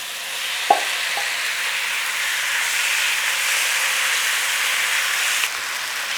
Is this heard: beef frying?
yes